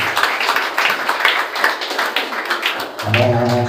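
A church congregation claps loudly and steadily in a dense burst of hand claps, then a sustained sung or organ-like tone enters near the end.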